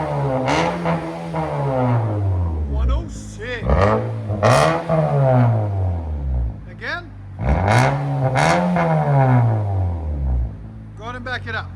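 Straight-piped 2020 Nissan Altima SR with a 2.5L four-cylinder revving hard in repeated bursts, each rising and falling, loud and close, with a voice speaking briefly between revs.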